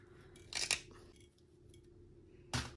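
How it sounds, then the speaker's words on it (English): Scissors snip through leather during a handmade crossbody bag project, two crisp cuts close by: a double snip early on, then a single sharp cut near the end, with quiet room tone between. "we take scissors and we cut"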